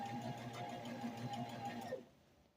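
A sewing machine runs steadily for about two seconds, stitching diaper covers in a small, cramped sewing room, with a close, even mechanical whir that stops abruptly near the end.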